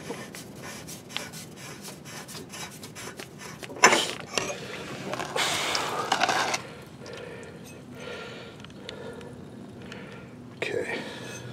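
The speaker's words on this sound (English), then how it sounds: "I have my breaker bar on 22 millimeter" A breaker bar on a 22 mm bolt works at a 5R110 transmission pan, giving scattered metallic clicks and clanks, a louder burst of scraping mechanical rattle midway, under close speech.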